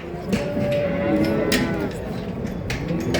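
Cattle lowing at a busy livestock market in Çorum, a steady chorus of moos layered over a dense background of crowd noise and distant voices.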